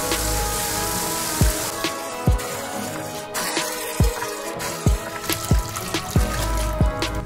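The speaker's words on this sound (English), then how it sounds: "I fill my 5-gallon bucket with water" Warm water poured into a 5-gallon bucket for hydro dipping an AR-15, a steady splashing trickle with repeated sharp drips and knocks throughout, close and moderately loud.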